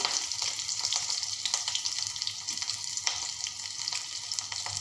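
Garlic paste and grated coconut sauté in oil with a steady, fairly quiet sizzle. Irregular scraping and stirring taps run throughout at close range, with no speech.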